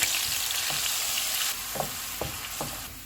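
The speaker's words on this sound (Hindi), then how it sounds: "इसको 3 से 4 मिनट तक फ्राई करेंगे" Steady sizzling of ground onion frying in hot oil over medium heat, close up, with occasional soft scrapes of stirring and no voices.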